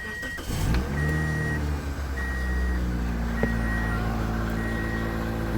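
A Toyota Matrix/Corolla engine cranks and starts after an exhaust gasket repair, then settles into a steady, even idle up close, with a periodic high electronic beep repeating over it.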